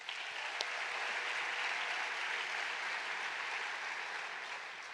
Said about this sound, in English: I want to give a big hand and round of applause